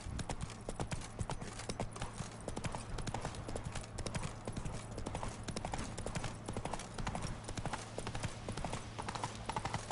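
Steady clip-clop of the horse Roach galloping in a video game, quick regular hoofbeats throughout at moderate level, with a faint voice briefly under them.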